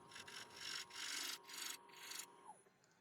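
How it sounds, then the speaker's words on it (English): A scraper shear-scrapes Irish yew spinning on a wood lathe, making close, rhythmic rasping strokes in several bursts, each a bright rough scrape, before the tool lifts away and a faint motor hum remains. "Do a little shear scrape all along on the outside, or the underside I should say."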